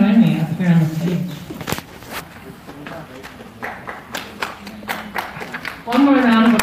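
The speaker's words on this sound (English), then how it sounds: "One more round of applause for Lenny." A conference audience claps for a panelist at a salon event, with scattered, fairly sparse claps between stretches of someone speaking at the start and end.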